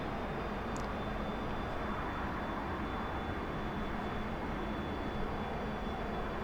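Steady jet engine drone from a T-45C Goshawk trainer in the DCS flight simulator during a descent, holding a constant, moderate level throughout with no talk.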